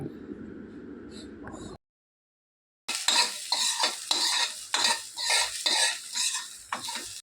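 Sweet corn fries in a pan with chilli powder, chaat masala and salt. After a short hush, a spoon scrapes and stirs it in a quick, rhythmic series of close strokes over a steady sizzle, with no talking.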